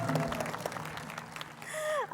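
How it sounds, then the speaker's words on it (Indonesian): An audience at a debate among women legislative candidates gives a soft spatter of applause, heard faintly under a speaker's ongoing voice. "Tepuk tangan untuk Ibu Nur Hayati Assegaf"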